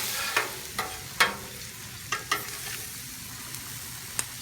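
Shrimp fry on a Blackstone griddle with a constant close hiss of sizzling, broken by sharp scrapes and clicks as a spatula stirs them.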